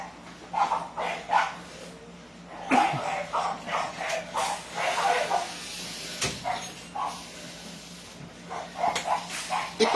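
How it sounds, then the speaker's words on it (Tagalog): A dog barks repeatedly nearby in short yapping bursts with brief pauses, fairly loud over a quiet room background. "ingay na aso."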